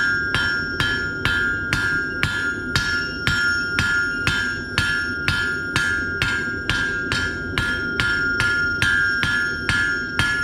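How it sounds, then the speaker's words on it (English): Steady, rhythmic hammer blows on hot iron being forged into a round taper ring out about twice a second, bright and close, each strike followed by a short metallic ring. "I'll just roll the piece and hammer on all the corners."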